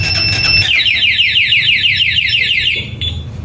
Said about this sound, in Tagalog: Isang pindot nyo lang mamamatay yung motor, tapos mag-iingay, tapos hindi na ulit mapapaandar.